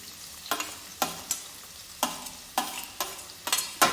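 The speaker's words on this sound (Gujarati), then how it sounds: "લસણ મૂકી દઈશું આમાં મરચું અને ડુંગળી" Garlic, chili and onion fry in a pan with a close, steady sizzle, broken by regular stirring scrapes about twice a second.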